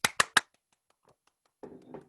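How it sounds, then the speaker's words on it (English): Three sharp, loud hand claps in quick succession, followed by near silence and a short burst of faint rustling or mumbling. "that's where you learn to do aggressive clapping"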